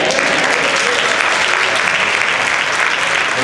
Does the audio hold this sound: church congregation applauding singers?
yes